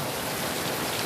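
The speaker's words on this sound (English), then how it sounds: "And the rain coming down in buckets." Heavy rain pours down in a thunderstorm near I-20, a dense, constant wash of hiss that fills the whole moment, close and loud, with no voices.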